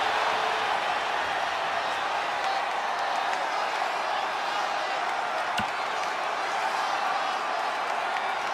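A live arena crowd in the wrestling game WWE 2K20, a steady dense roar of cheering and applause holding evenly throughout, with one sharp slam-like hit partway through and a voice speaking over it.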